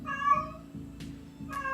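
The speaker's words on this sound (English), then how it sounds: "That's my cat." A pet cat meows indoors, with a few drawn-out mews sounding close and fairly loud, mixed with soft background noises.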